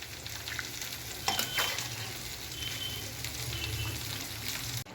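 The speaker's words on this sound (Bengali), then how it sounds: "নুন দিয়ে এটাকে আমি ফুটতে দেব" Green jackfruit and prawn curry with chillies and salt simmers in a pan, a soft continuous bubbling hiss with a brief clink of a utensil early on, fairly quiet and close.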